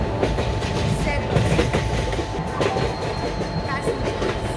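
An express train pulling into a platform at an Indian railway station, with a steady loud rumble and rattling wheels, faint clicks and a thin high tone over the din.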